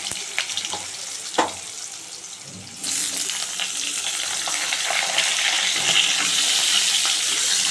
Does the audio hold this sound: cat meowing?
no